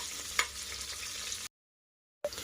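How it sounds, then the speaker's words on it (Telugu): Onions frying in oil or ghee give a steady, close hiss and crackle with a small pop near the start. The sizzle stops abruptly into silence, then briefly returns. "ఆనియన్స్ మంచిగా వేగుతున్నాయి"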